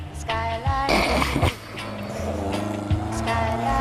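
A first worldwide limited edition Mazda MX-5 engine hums and revs steadily near the listener, with harmonic drone rising briefly around the middle, while a voice talks over it.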